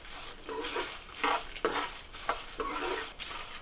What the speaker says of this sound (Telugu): ఇందులోనే 10 ఎండుమిర్చి వేసుకొని దోరగా వేయించుకోండి.